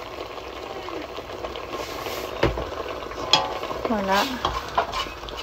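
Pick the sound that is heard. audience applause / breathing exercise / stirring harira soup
stirring harira soup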